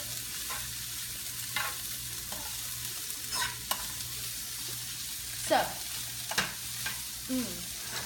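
Food frying in a hot pan while tongs turn it, a steady sizzle broken by several short scraping and clattering flips spread across the stretch.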